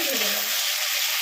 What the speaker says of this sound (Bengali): ভালো করে দেখে ভেজে নেব।